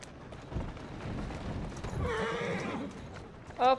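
A horse in Assassin's Creed Syndicate clops along at speed, then lets out a drawn-out neigh, followed by a sharp, loud whinny burst at the end.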